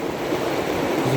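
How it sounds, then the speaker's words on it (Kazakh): River water rushing along the bank of the Kastek river during fishing, a steady broadband flow with surf-like wash, heard close and continuous with no talk. "Біздің өзеннің суы."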